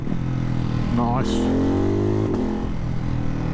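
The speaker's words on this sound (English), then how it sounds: "That backfire, it just makes me smile." Ducati Hypermotard 698 Mono supermoto with a Termignoni exhaust, quickshifter and blipper, revving hard with climbing and falling engine tones and a sharp backfire pop late on, while a voice speaks briefly over it.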